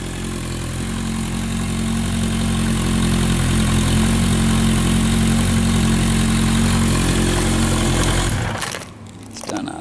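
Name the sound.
1981 Honda CB900 Supersport motorcycle engine idling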